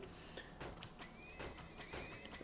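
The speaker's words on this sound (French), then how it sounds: "J'ai 6 chevaux." Horses neighing and whinnying in the strategy game Turmoil, with clip-clop hoof sounds mixed in, a steady run of repeated whinnies at moderate loudness and no talk.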